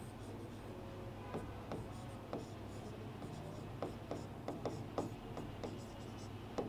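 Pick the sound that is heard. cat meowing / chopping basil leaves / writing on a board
writing on a board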